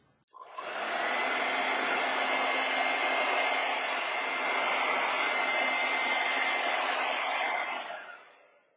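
A hair dryer blows steadily and loudly for about eight seconds, drying paint on a fantasy painting of a fairy or angel, then cuts off.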